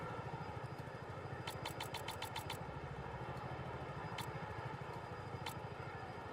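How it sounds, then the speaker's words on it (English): Ferrari Formula 1 car engine in the F1 25 racing video game: a steady, fairly quiet buzzing engine drone with quick bursts of rapid gear-shift clicks and occasional sharp ticks. "the engine sound was Ferrari for the longest time, and they finally updated it"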